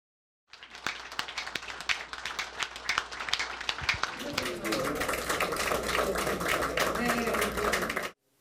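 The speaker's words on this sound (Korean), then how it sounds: "오늘 보니까 상당히 많은 박수 받더라고요" An audience claps for an outgoing party emergency committee chair at a press event. Sparse individual claps at first build into fuller, steady applause that cuts off abruptly, with voices faintly mixed in.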